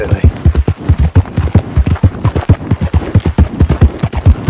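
Horse hooves clip-clop steadily and close in Red Dead Redemption 2, a brisk even rhythm of loud hoof strikes that runs the whole time with no talking.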